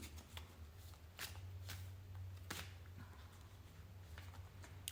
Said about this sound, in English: Shuffle the last deck.